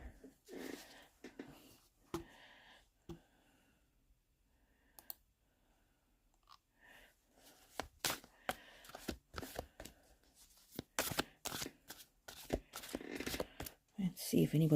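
Papery card shuffling in quick bursts of riffling and clicks, fairly close, with quiet gaps and a few soft knocks between.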